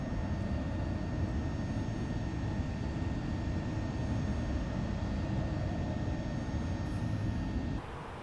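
A fixed-wing airliner on a flight from Innsbruck to London City drones with a steady, loud engine roar heard from inside the cabin, continuous and even until it drops in level at the very end.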